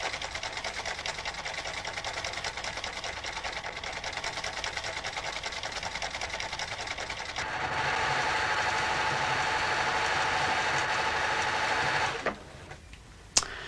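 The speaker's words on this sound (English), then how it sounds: "If I change to a different stitch, the cam follower moves, and you can see it moving to a different rhythm." A cam-driven sewing machine stitches steadily, a fast, even mechanical whir and needle clatter that shifts to a slightly louder, altered rhythm midway as the stitch pattern changes, then winds down with a final clunk.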